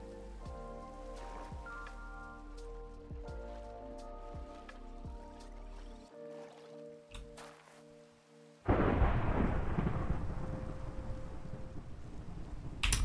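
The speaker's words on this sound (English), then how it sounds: "I don't do thunderstorms. I do not do thunderstorms." Rain falls in a Minecraft-style video game world, starting as scattered drips and notes with music, then becoming a loud, steady downpour of a thunderstorm.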